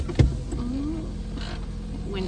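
A car power window sliding open with a brief whirring motor hum, close, followed by faint outdoor ambience.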